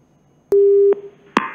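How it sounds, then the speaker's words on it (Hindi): A telephone busy tone follows a disconnected call: one steady electronic beep, a short pause, then the start of the next beep, loud and close with no talking. "फोन काट दिया गया है।"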